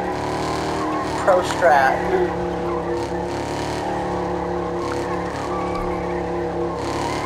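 A car driving in the video game Fortnite: a continuous engine drone with a brief tire squeal and skid near the start, under a player's talk.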